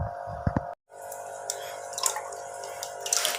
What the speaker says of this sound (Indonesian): Kita akan isi air ini ke tempat yang tadi.